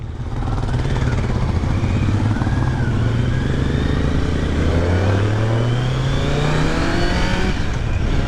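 A 2023 Kawasaki Z900 four-cylinder motorcycle, ridden in sport mode, revs and accelerates steadily with a loud, continuous engine note, its pitch sweeping upward through the gears, and no talk over it.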